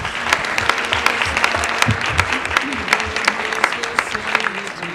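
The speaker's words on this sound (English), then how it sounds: "please give a round of applause for Bree" An audience applauds for Bree, a startup pitch presenter at a regional startup competition, with steady dense clapping throughout and a few sharper individual claps standing out.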